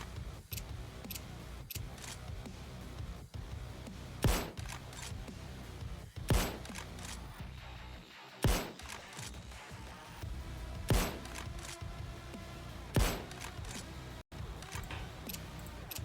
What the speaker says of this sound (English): I used my handy dandy sniper rifle to take out some of the guards on the edge.